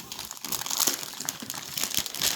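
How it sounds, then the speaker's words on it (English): A heavy plastic bag crinkles and crackles in uneven bursts as it is handled up close, loud and with no voices. "So that's a heavy plastic bag."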